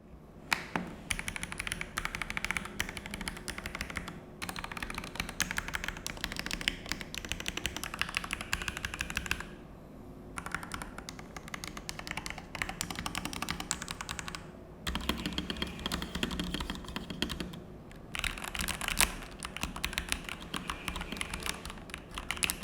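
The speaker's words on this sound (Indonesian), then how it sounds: "ini dia untuk feel typing testnya yang Milky Yellow Switch, kurang lebih kayak gini" Typing on a Fantech Maxfit67 mechanical keyboard with Milky Yellow switches and a plastic case, rapid continuous clacking keystrokes in bursts with a few short pauses, close and clear with no talk.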